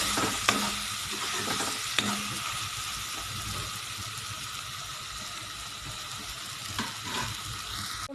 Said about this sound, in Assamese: পাঁচ মিনিটমান সময় মই এনেদৰে লৰাই ভাজি ল'ম।